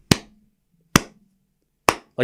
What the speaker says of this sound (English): you hit a great forehand winner and you get 3 people clapping